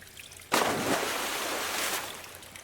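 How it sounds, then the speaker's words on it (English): A sudden water splash as someone plunges into a swimming pool, a sharp burst followed by about a second and a half of churning, fading water noise. "Insert common water sound effect here."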